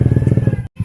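A motorcycle passing close by on a street, its engine rumbling with a rapid pulsing beat for under a second before cutting off abruptly, followed by a brief low resumption.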